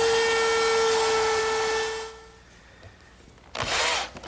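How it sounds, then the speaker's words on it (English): A router table fitted with a 1/4-inch round-over bit shapes the edges of a wooden dining tabletop, giving a loud, steady high whine for about two seconds that cuts off, then a second short burst near the end. "now I'll relieve these edges with my 1/4 inch rounding over bit in the router table"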